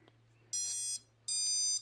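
Two long, shrill electronic beeping bursts from an FPV drone's lost-model buzzer alarm, each about half a second, separated by a short pause, loud and close, with a faint steady hum underneath.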